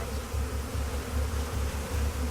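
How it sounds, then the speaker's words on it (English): Dense, steady buzzing of many bees close by, a low droning hum that pulses slightly without pause. "That's a lot of bees."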